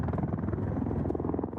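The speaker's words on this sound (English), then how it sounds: "including Ospreys and helicopters, land and take off" Military helicopters and Osprey tiltrotor aircraft landing and taking off give a dense, steady rotor rumble with rapid low thumping, loud and continuous, with no voices.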